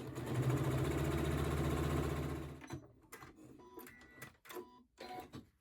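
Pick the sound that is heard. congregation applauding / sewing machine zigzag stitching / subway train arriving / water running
sewing machine zigzag stitching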